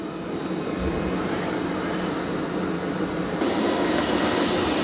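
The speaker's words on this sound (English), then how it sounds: "So here it is mopping the muddy paw prints" Roborock Qrevo MaxV robot vacuum mopping muddy paw prints off a floor, a steady broadband whirring hum with a slight rise in level near the end, continuous and close.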